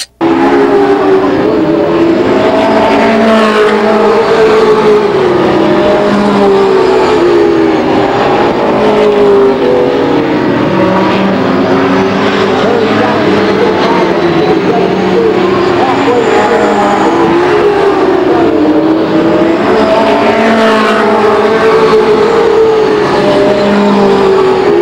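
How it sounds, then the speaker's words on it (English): Race cars circling the oval at Lake Geneva Raceway in 1993, a loud continuous roar of several engines with pitch swelling and fading as they pass, heard from trackside without speech. "There's more than enough room to race side by side"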